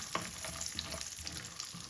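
Steady, close sizzling of onions frying in hot oil for Turkish chicken rice pilaf, with occasional stirring scrapes and pops over a continuous crackling hiss.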